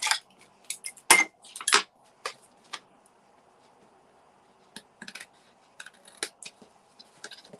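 Scissors trimming excess paper from a paper flower craft, a series of crisp snips and rustles in short bursts separated by quiet gaps.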